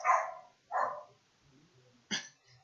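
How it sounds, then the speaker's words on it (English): A neighbor's dog barks three times nearby, two full barks close together and a sharper third after a pause, with quiet murmuring between them. "that's my neighbor's dog."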